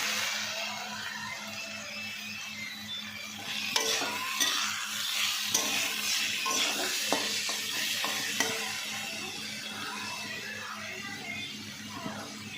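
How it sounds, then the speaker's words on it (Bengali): Thin-cut potatoes hit hot oil with cumin and chilli in a pan, starting as a steady sizzle, then spatula scrapes and clattering stirs come through over the continuous frying. "এইভাবে সরু সরু করে আলু কেটে রেখেছিলাম সেটা দিয়ে দিলাম"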